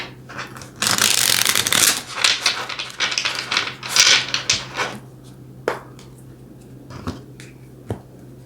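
Tarot cards being shuffled and drawn, with a burst of dense riffling crackle early on, then softer irregular slaps and flicks of single cards fading toward the end; no talking.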